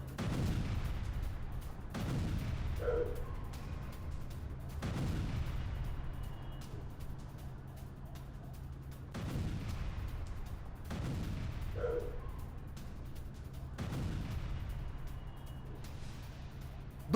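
Heavy explosions strike Hezbollah positions in South Lebanon, several deep booms arriving a few seconds apart, each rolling away into a long low rumble over a steady background hum.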